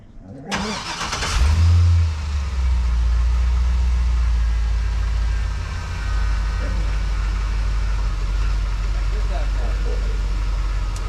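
A truck drives over dirt with its tires rubbing against the body, heard as a steady loud engine rumble with scraping underneath after a start-up burst, and a voice talks over it.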